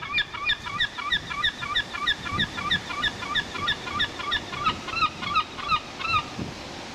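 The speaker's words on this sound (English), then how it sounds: "let us first listen to the call of a seagull." Seagull calls: a rapid series of repeated nasal, yelping cries in a steady rhythm, clear and fairly close over a faint background wash.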